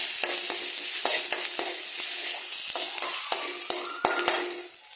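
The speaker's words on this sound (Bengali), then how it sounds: "এখানে মৌরি, দারচিনি আর গোলমরিচটা একসাথে আমি ফোড়ন দিয়ে দেব" Fennel seeds, cinnamon, black pepper, crushed garlic and ginger sizzle in hot oil in a pan, a bright steady frying hiss punctuated by sharp knocks and scrapes of stirring.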